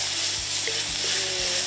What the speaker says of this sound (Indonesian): Tumis dulu semua bumbu halusnya, tambahkan juga lengkuas, serai, dan salam yang digeprek sebelumnya.